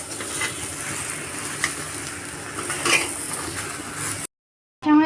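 Green chilies frying together with a raw jackfruit mixture in a pan, a steady close sizzle with scraping stirs and light clinks of a utensil, then a brief silence and a sharp burst of sizzling at the end.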